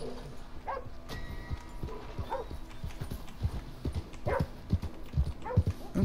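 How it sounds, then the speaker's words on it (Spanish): Horse hooves clip-clop at a steady walking rhythm on the ground in the Red Dead Redemption 2 video game, the close, regular thuds continuing with no voices heard. "Este es guapísimo este caballo"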